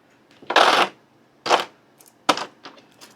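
Dice from The Dark Quarter board game being handled, a few short rattling clatters of solid dice rolling and knocking together, spaced apart and fairly close.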